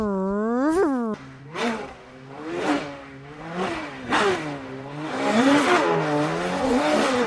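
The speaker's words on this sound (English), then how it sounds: "like cars racing around. So Formula One car racing," Synthetic race-car audio of Formula One cars screaming past one after another, rising and falling engine whines in quick repeated passes with high revving, loud and close, no talk.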